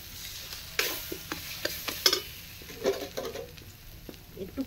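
Ground mung dal paste being stirred into a hot pan with browned aromatics, a soft sizzle under scraping spatula strokes that come in uneven bursts, close and moderately loud.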